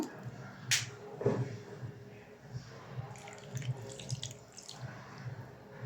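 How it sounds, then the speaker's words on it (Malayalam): Water poured into an anchovy mixture for nathili peera makes a short splash, then uneven trickling and dripping with a few clinks and wet handling sounds, close and fairly quiet. "ഇനി നമുക്ക് ഇതിലോട്ട് ആവശ്യത്തിന് ഒരു ഇച്ചിരി വെള്ളവും കൂടെ ഒഴിച്ചു കൊടുക്കാം"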